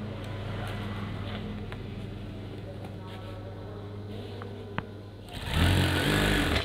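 A sewing machine stitching curtain fabric, running as a steady close mechanical whir with a single click partway through, then growing louder and busier near the end.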